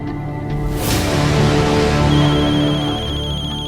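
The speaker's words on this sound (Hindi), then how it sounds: "वो मेरा फोन आ रहा है, 1 मिनट।" A phone ringtone plays at a steady, fairly loud level for a few seconds, a repeating electronic melody with no talk over it.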